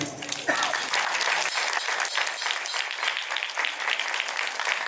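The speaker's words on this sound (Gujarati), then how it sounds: "ખૂબ જ જોરદાર તાળીઓથી" A crowd applauding at a Tulsi Vivah ceremony in a Swaminarayan Hindu temple in Huntsville, a loud sustained burst of many hands clapping, dense and continuous for several seconds.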